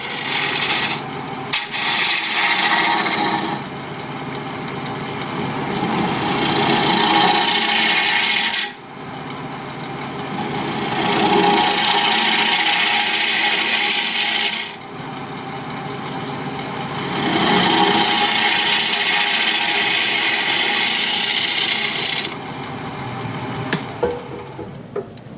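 A wood turning tool is sharpened in three long grinding passes of several seconds each, rough and rasping, with short pauses between them over a steady motor hum.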